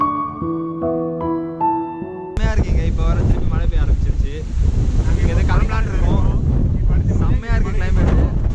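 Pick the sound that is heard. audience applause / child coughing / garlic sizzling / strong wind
strong wind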